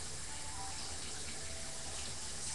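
A faucet runs while a bag is rinsed out, a steady close splashing gush of water that fills the whole short stretch without pause.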